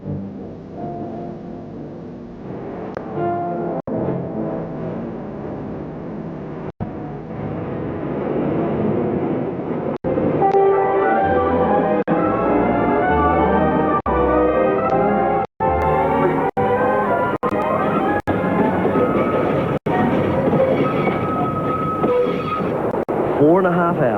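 The TranzAlpine Express rumbles along the track through New Zealand's alpine country, a loud continuous rolling roar with wheel clacks and occasional sharp knocks, heard up close for the whole stretch.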